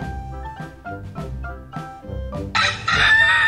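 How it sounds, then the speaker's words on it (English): A rooster crows loudly and close by, one drawn-out call, heard over a bouncy children's music track that swells near the end. "Rooster."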